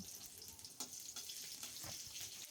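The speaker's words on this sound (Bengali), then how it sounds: "ওই তেলের মধ্যে ফড়নে দিলাম গোটা জিরে কাঁচা লঙ্কা তেজপাতা" Whole cumin, green chili and bay leaf sizzle in hot oil, a steady close crackling fry with a few brief spits and no voices.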